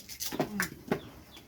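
Chickens clucking at close range, a few short, separate calls scattered over a quiet background with a faint voice in the mix.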